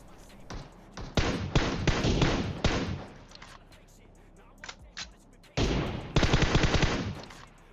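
Gunfire in the PUBG Mobile battle game crackles in bursts of rapid automatic shots, loud and close, separated by brief quieter gaps with a few single thuds.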